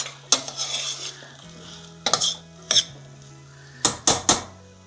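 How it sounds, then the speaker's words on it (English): Onions tipped into a soup pot and stirred for a dairy-free chowder, giving a few sharp clanks and scrapes of a utensil against the pot over a soft background sizzle, close and fairly loud with no talking. "So I'm gonna put the onions in, give it a little stir."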